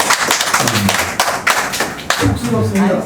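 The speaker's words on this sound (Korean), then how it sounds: "일단 또 박수 한번 쳐드리고 할까요?" A church congregation clapping to welcome a visiting elder, a loud ragged burst of hand claps and taps mixed with someone talking.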